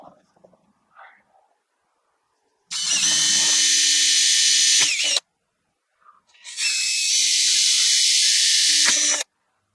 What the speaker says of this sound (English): we're going to drill 3 32nd inch pilot holes before we use the paddle bit.